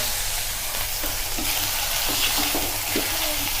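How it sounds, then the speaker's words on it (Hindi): Washed bombil dry fish hitting two tablespoons of hot oil in a heavy-bottomed kadhai, a loud steady sizzle with occasional scraping stirs throughout. "2 बड़े चम्मच हमने तेल डाला है, गरम हो चुका है। धुले हुए बोमिल उसमें मिला देंगे।"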